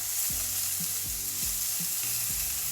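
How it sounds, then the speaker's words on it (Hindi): Mushrooms frying in a pan for a masala, a constant loud sizzle with a few rhythmic stirring scrapes of a utensil against the pan. "हमें इसे गोल्डन ब्राउन होने तक फ्राई करना है।"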